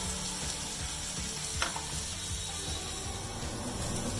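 Masala frying for a prawn curry, a steady close sizzle in a hot pan with a faint scrape of stirring and no talk.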